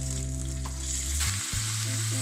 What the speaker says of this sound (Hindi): इसको हम 1 मिनट तक के लिए फ्राई करेंगे